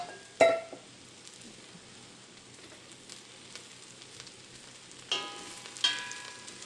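Mushrooms frying in olive oil in a pan over medium heat give a steady, quiet sizzle, with a sharp clatter near the start and a few louder stirring bursts toward the end.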